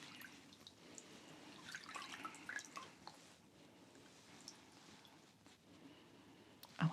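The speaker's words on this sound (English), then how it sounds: "So I'm just going to make sure that I rinse my hands." Water drips and splashes softly as hands are rinsed under slightly warm water, a faint, steady patter with light wet squishes, close and quiet, ending in a brief louder splash.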